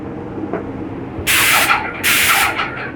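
A 2023 Titan 440 paint sprayer releases two bursts of loud, airy hissing spray, the first nearly a second long and the second slightly shorter, over a low background hum, with no talking.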